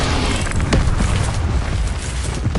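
Incendio fire spell cast in the video game Hogwarts Legacy, a dense roaring whoosh of flame bursting and sustained throughout at loud, close level, with no clear voice.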